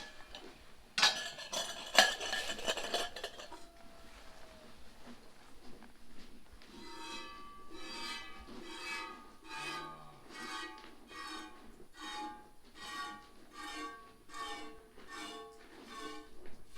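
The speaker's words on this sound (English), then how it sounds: "Given her some udder balm, and now Paul's about to start milking" Hand milking of a house cow into a pail, with regular rhythmic squirts of milk hitting the pail, fairly close and steady, following a brief louder clatter at the start.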